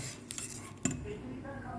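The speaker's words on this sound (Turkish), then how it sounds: "Şimdi kaselerimi alacağım arkadaşlar bunları." Bowls being handled while making banana pudding with plum jam in a kitchen: light clinks and a sharper knock of dishware, quiet and close, with no talking.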